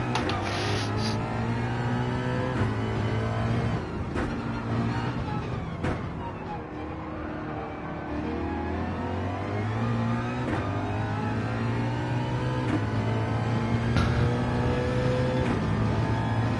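Race car engine in the Gran Turismo 7 video game lapping the Bathurst circuit in a Gr.3 car, droning steadily with repeated rises and drops in pitch through gear shifts and corners, loud and continuous.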